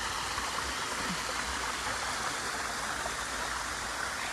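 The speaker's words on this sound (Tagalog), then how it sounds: "Yan ang pinaka mini falls nila." Small garden waterfall at Aiyama Garden in Japan, a steady broadband rush of falling water heard up close and fairly loud, with no voices over it.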